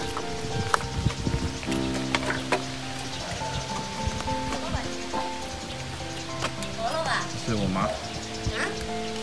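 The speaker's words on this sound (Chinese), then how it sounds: "下雨了。" Rain pattering steadily on a rural farmyard, with farm animals calling and people talking throughout.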